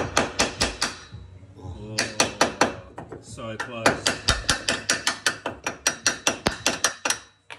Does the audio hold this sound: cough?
no